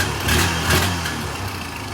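A Honda Rancher ATV engine, recently restored and running muffled, revs up twice in close succession, a loud low rumble that swells and eases before settling to a steady idle.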